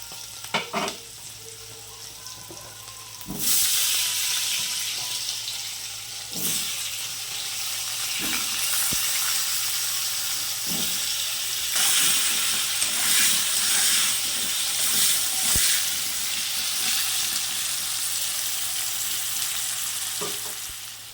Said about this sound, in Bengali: সেই আলুগুলোকে দিয়ে আমি ভালো করে ভেজে নেবো